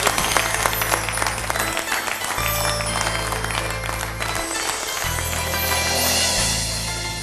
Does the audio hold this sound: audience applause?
yes